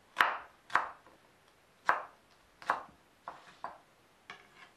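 A knife chops green onions on a cutting board in about eight crisp, separate strokes, spaced unevenly and close by, with no talking.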